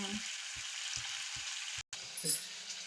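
Tempering seeds hit hot oil and sizzle in a steady, close hiss, with a few soft low knocks beneath it. A brief dropout comes near the end of the short burst.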